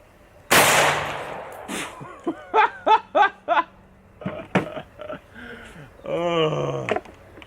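A rifle fires an extreme penetrator bullet at a military Kevlar helmet: one sharp, loud blast near the start with a long ringing decay, followed by bursts of laughter and excited voices.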